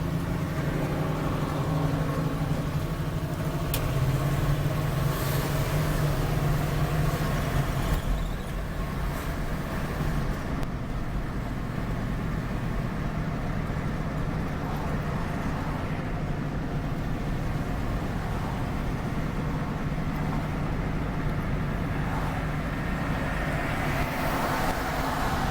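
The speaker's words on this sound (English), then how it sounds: "I am surprised at just how well for the lack of use of this car," An old car with little recent use drives along steadily, its engine and road noise forming a continuous low rumble with a few light rattles throughout, fairly loud and uninterrupted by voices.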